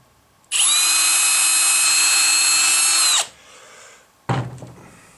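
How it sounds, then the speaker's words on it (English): A drill with a 3/16 bit bores down the center of a screw post on a Ford OBS truck dash bezel, one loud, steady high whine lasting about three seconds, then a quieter pause and a sharp knock. "and drill a hole right down the center."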